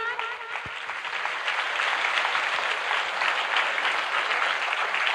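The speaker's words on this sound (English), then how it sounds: "Can you all applaud for our new cabinet members of 2024 to 25?" A school audience at an investiture ceremony applauds the newly elected cabinet members, steady sustained clapping from many hands filling the hall after a brief quieter start.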